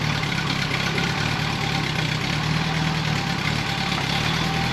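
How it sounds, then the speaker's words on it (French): A Renault Dauphine engine idling steadily under restoration, a continuous close rumble with an even low throb that stays loud and unchanging throughout, with no talking. "Je vais dérégler un peu le ralenti, histoire."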